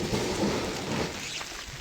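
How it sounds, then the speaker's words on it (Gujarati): Steady rain falls in a dense, even wash of noise, close by and unbroken. "વરસાદ ચાલુ છે"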